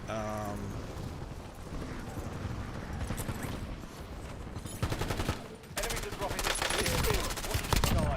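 Rapid gunfire in bursts, broken by short pauses for magazine changes, then resuming in dense, loud volleys of crackling shots toward the end; voices are faintly mixed in.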